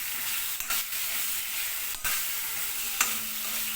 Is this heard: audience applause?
no